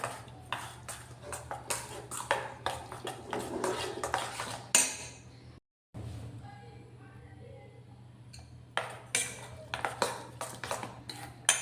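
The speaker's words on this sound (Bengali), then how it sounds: "এটাকে ভালো করে মিশিয়ে কিছুটা সময় ঢেকে এটাকে রেখে দেবো" Semolina soaked in milk stirred in a bowl, a run of close clinking spoon taps and scrapes against the dish, a short silent pause, then more rhythmic clinks, with a faint voice in the middle.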